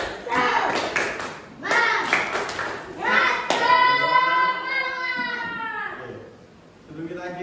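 A group claps hands in quick rhythmic patterns while young voices chant along, the claps sharp and close between bursts of sung voices.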